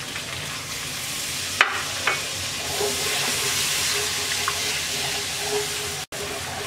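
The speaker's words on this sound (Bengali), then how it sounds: "এবার মশলাটাকে 2 মিনিট কষিয়ে নেব।" Ground spices (chilli, coriander, roasted cumin) with a little water sautéing in a pan for a potato-and-pointed-gourd curry, a steady close sizzle with a couple of brief stirring clicks.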